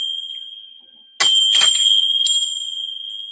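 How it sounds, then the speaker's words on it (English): Tibetan bells are struck three times in quick succession, each a bright metallic hit that blooms into a clear, sustained ringing tone that slowly fades. "use my Tibetan bells, a bit like I did with the tuning forks"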